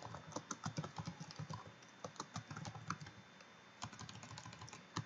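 Rapid, uneven keystrokes on a computer keyboard clatter close by in short bursts with brief pauses, with no speech.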